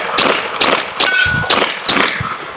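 A BinTac T9 4500psi PCP air pistol fires a string of sharp, close shots at an irregular pace, each followed by a bright metallic clang and ringing ding.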